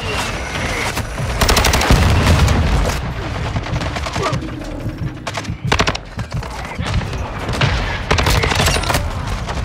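Bursts of rapid automatic fire from the HCR56 in Call of Duty MW2, loud and close, in several separate volleys with short gaps between them and heavy low booms underneath.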